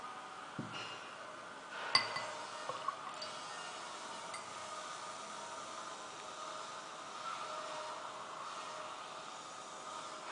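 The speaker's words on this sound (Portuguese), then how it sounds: "vamos acrescentar água oxigenada" Hydrogen peroxide poured into a glass during a chemistry experiment, a quiet steady liquid pour with a couple of small clinks near the start, set against a faint hiss, with no talking.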